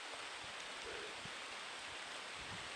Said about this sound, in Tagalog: lumalakas na talaga yung ulan guys